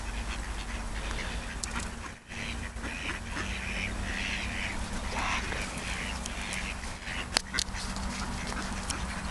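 Ducks being fed at a spa in Teplice nad Bečvou quack faintly in the background over a steady outdoor hum, with a couple of sharper calls near the end.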